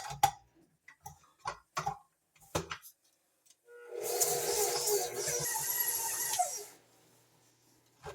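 An electric mixer whirs steadily for a few seconds while mixing banana breakfast batter with eggs and margarine. Before it, a series of short ticks and knocks sound from nearby, and the mixer noise ends abruptly.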